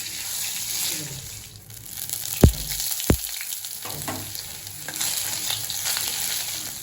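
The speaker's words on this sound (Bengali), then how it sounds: "তেল গরম হয়ে গেছে এবার জিরে শুকনো লঙ্কা তেজপাতা" Cumin, dried chilli and bay leaf crackle and sizzle in hot oil, with a couple of sharp utensil knocks on the pan amid the steady frying hiss.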